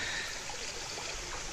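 A recording of running water plays from a stereo at a beaver dam, giving a steady, even trickling stream sound with no voices, continuous and moderately close.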